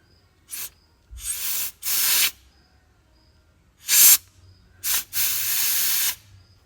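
Bursts of forceful air hiss through the narrow pitot tube of a Glastron CVX16 boat, several blasts of a second or so separated by pauses, close and fairly loud, no talking.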